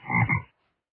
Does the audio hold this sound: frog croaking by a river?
yes